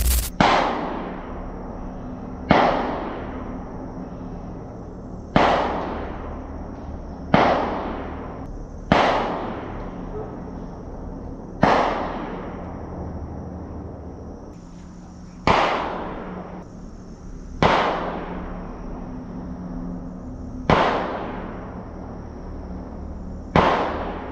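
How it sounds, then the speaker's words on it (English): Sharp handgun shots crack one at a time at irregular intervals, about ten in all, loud and close, each followed by a short echoing decay. "Gunshots rang out, close, far too close."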